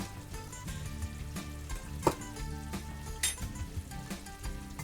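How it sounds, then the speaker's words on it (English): Red tomato sauces poured into a frying pan of meat sauce for a spaghetti Bolognese, with a soft steady sizzle and a few faint stirring knocks and splashes. "We're going to add all the red stuff,"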